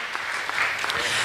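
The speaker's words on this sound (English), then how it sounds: "Big applause for Thomas." An audience at a startup pitch competition gives a brief burst of loud, dense applause that fills the room for just over a second, with faint voices mixed in.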